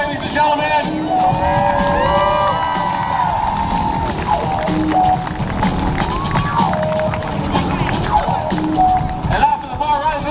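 A large outdoor airshow crowd at an Air Force base cheers and whoops loudly and continuously while a parachute team descends, with shouting and babble filling the air.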